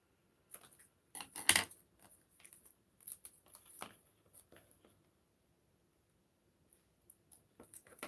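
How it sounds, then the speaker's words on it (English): Scissors cut paper for a handmade card with sparse, close snips and rustles in short irregular bursts, quiet and with silence between them. "So I'm going to use scissors."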